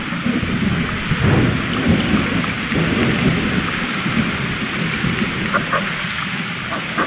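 Heavy rain falls steadily on surfaces in the far north after a heat wave, with deep rolling thunder rumbling underneath throughout, dense and continuous with no voices.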